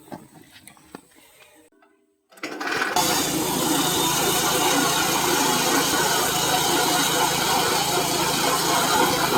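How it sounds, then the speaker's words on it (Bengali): A chaff cutter machine with its own engine, built for use without electric power, cranks briefly, falls silent, then starts and settles into a loud, steady running drone that carries on close by without letup. "চলুন এবার আপনাদেরকে আমি স্টার্ট করে দেখাচ্ছি"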